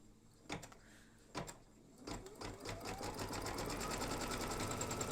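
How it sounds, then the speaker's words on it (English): An embroidery machine stitches freestanding lace in a 5x7 hoop, opening with a few sharp mechanical clacks before settling into a fast, steady whirring and tapping stitch rhythm that builds and continues close by. "Lower the presser foot and stitch away."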